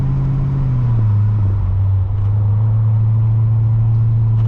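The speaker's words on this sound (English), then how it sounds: "The engine's ever present in this Cabriolet form." A 2007 Mercedes-Benz CLK63 AMG Cabriolet engine running, a steady loud low drone whose pitch drops once early on and then holds, close and continuous with no talk.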